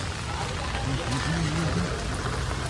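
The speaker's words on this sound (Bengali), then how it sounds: "বাইরে অনেক বৃষ্টি" Heavy rain pours steadily outside near a Madgaon market, a dense continuous hiss that fills the scene while voices murmur faintly underneath.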